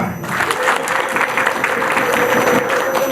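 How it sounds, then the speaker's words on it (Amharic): Wedding guests at a celebration clapping together, a dense, sustained burst of crowd applause filling the room. "ለራሳችሁ ሞቅ ያለ ጭብጨባ"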